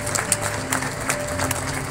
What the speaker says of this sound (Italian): applauso di quelli un po' coatti